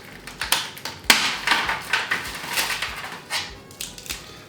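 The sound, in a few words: breaking hardened caramel into small pieces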